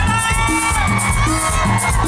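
A loud crowd shouts and cheers at a live banda concert on New Year's night, a dense continuous roar with whoops over steady music and a thumping bass beat.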